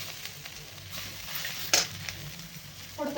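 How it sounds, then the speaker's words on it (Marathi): Masala paste with ginger and garlic roasting in a pan for hotel-style matar paneer, a steady soft sizzle with stirring scrapes and one sharper clink partway through, no talking. "मसाला आपला चांगला थोडासा भाजून घेणार आहे"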